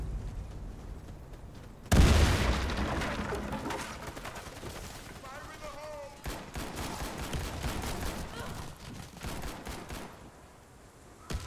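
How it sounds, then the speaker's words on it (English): A grenade detonates with a sudden loud blast in the shooter game Warface during a ranked bomb-defuse match, followed by rattling bursts of gunfire that fade and return, with brief voice chatter. "Grenade out!"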